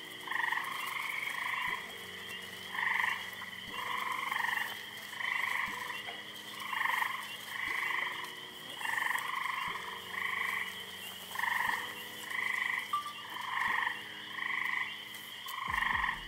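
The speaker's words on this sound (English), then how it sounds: "check this upcoming scene out of these northern green frogs" Northern green frogs croak repeatedly at a carnivorous plant nursery, their calls coming in steady, closely spaced pulses that overlap into a continuous chorus with no talking.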